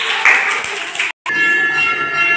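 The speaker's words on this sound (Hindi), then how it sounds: "क्लैपिंग कीजिए।" A group of schoolchildren claps together in a dense, steady patter that breaks off for a moment and then starts up again just as loud.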